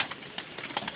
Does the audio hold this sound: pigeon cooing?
yes